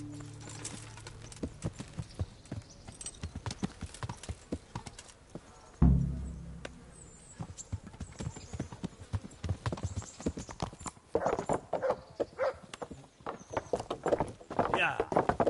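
Horse hooves clip-clop at a steady rhythmic walk while riding in the medieval video game Kingdom Come: Deliverance, with a soft ambient bed underneath and a louder burst midway.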